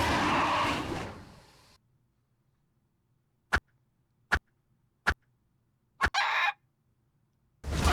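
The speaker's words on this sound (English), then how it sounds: "Run, Mr. Chicken" Chicken clucks in a video game: a burst of noisy game sound, then a quiet gap broken by several sharp, short clucking pops spaced about a second apart, followed by another brief loud burst.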